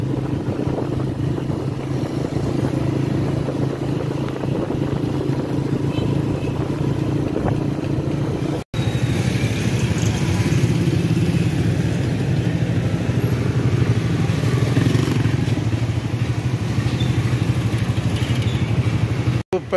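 A motorcycle rides along a road in Sialkot, its engine droning loud and steady close by with wind rush, dropping out briefly twice.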